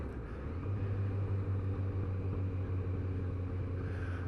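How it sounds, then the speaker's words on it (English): A Kawasaki Z900RS motorcycle's exhaust drones steadily while riding, a low, even engine hum with wind rush, close and continuous with no speech. "That exhaust note does make it a bit noisy"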